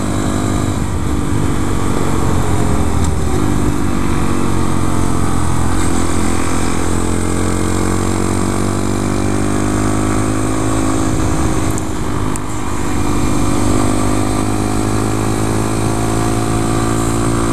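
A 2014 Honda Grom's single-cylinder engine drones loud and close under riding, its pitch climbing and dropping with throttle changes across the whole stretch, with no talking.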